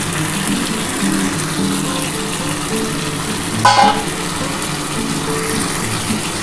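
Prawns tossed into a hot pan of bottle gourd and potato give a steady frying hiss, with a brief louder sizzling burst partway through; no one talks.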